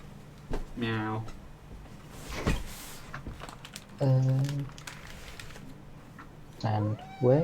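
Several drawn-out cat meows at intervals, fairly close, with a soft thud and some movement noise between them.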